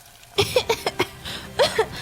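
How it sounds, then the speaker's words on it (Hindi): A woman's burst of harsh, wet coughs, several in quick succession, then a pause and two more rough coughs, close and fairly loud. "वो बुरी तरह खांस रही है।"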